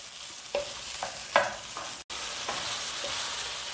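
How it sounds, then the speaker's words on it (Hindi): Banana flower cutlet mixture frying with masala over a medium flame, a steady soft sizzle broken by a few louder stirring scrapes and clicks, close and fairly quiet with no talk. "अब इसे हम 5-6 मिनट के लिए ये मसाला के साथ अच्छे से भूनेंगे मीडियम फ्लेम में"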